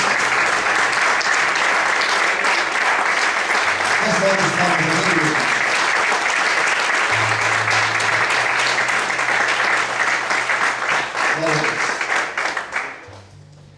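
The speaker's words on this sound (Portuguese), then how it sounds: "Você pode aplaudir ao Senhor em forte" Church congregation applauding during a Portuguese-language service, long sustained clapping from many people that fades out near the end, with a preacher speaking and a low hum over it.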